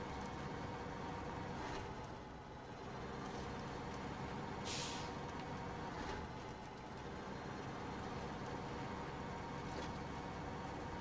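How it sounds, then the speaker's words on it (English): A heavy truck engine in SnowRunner drones continuously and loudly, labouring under load with shifts between first and second gear, punctuated by brief hissing bursts like air brakes. "as the truck was struggling to get going, it's like first, second, back down to first."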